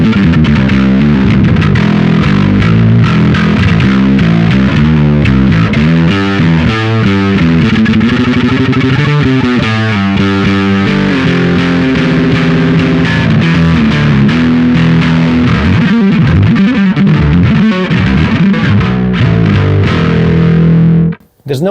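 Bass guitar run through a GR Bass Dual head with the distortion and blend fully up and a low-mid and high-mid boost, heard direct without cab simulation: loud, thick, buzzing distorted notes and riffs played continuously for about twenty seconds, ending abruptly.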